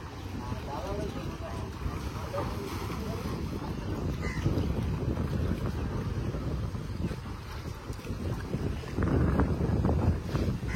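A fishing boat pulls back to the ghat on the Padma River, a low rumbling wash of motor and water with gusts of wind buffeting the microphone while people talk nearby.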